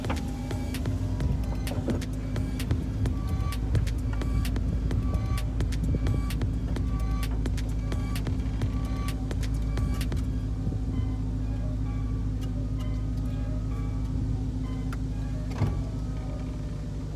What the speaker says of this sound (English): let's put the top down